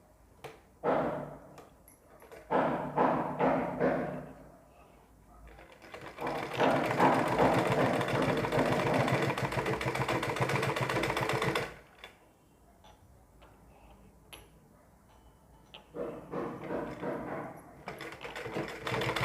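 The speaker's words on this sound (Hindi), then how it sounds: "अब हमें इसके ऊपर सिलाई चला देनी है।" A home sewing machine stitches a fabric strip onto a ladies' suit sleeve, bursts of rapid mechanical ticking that start and stop, with one long steady run in the middle and shorter runs at either end.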